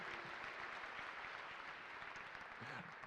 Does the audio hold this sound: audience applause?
yes